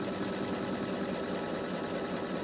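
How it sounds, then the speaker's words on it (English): A sewing machine running a close satin stitch, its fast, even mechanical chatter continuous and near throughout, with a steady whirring motor hum underneath and no talk. "I'm letting the sewing machine do all the work"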